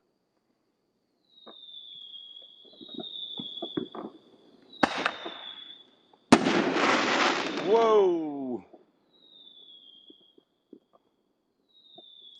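Mortar fireworks burst over a Tennessee neighborhood at night, several sharp, loud explosions with trailing crackles and whistling, separated by quiet gaps; a man exclaims once between blasts.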